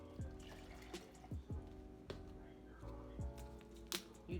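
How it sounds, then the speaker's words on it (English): Tap water runs and splashes into a container being filled almost to the top for a homemade Starbucks Medicine Ball drink, with faint clinks and drips under a low steady background. "I am going to add some water. I'm gonna kind of fill it up to the top almost."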